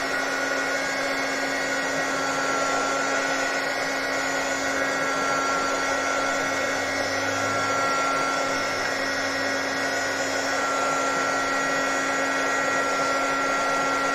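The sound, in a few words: hair dryer drying a craft paint layer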